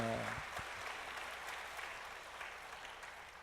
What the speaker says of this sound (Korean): 우리 예수님께 우리 감사와 찬송과 영광의 박수 올려드립니다